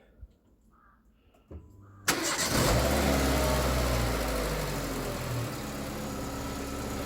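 A Renault Megane 1.4 petrol engine cranks briefly and catches, then settles into a loud, steady idle nearby; a couple of soft clicks come before the start.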